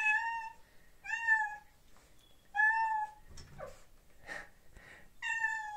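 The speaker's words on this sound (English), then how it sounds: "Cute kitten is calling for her girlfriend." A kitten meows repeatedly, calling for a female cat, with four clear, loud tonal meows spaced about a second apart. Soft rustling and faint handling noises fill the gaps between the calls, with no talk.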